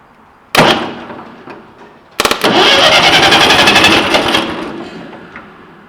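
Starter motor of a Ferguson TE-20 Grey Fergie tractor, wired to bypass a faulty starter switch. A short first burst is followed by several seconds of loud, close, rapidly pulsing cranking that slowly fades.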